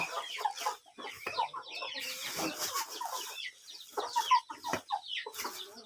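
Chickens cluck and murmur in irregular bursts, with a busy farmyard background of overlapping bird calls; no one speaks.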